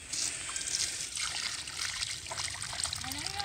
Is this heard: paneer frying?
no